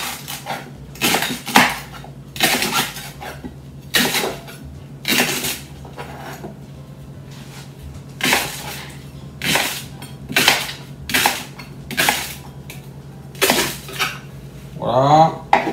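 A knife chops leeks into chunks on a board in a home kitchen, a dozen or so sharp, close thuds in an uneven rhythm. Quiet pauses fall between the cuts.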